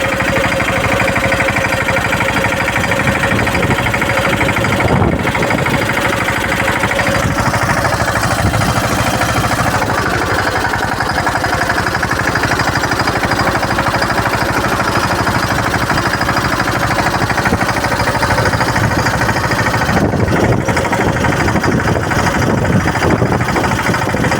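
A Steeltrac tractor in first gear runs through a cotton field, its engine a loud, steady, rough drone with a rattling knock that continues without a break, while no voices can be heard.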